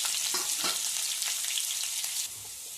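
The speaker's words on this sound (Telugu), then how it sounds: "ఆనియన్ ముక్కలు ఇలా గోల్డెన్ కలర్లోకి వచ్చేంత వరకు ఫ్రై చేసుకున్న తర్వాత" Small pieces of onion sizzle and fry in a pan with dried red chillies, producing a steady, close hiss with a few light stirring scrapes and pops, without any talk.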